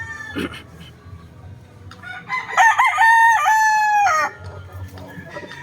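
A super sweater gamefowl rooster crows loudly and close by in one long, sustained cock-a-doodle-doo. A few short clucks come before it.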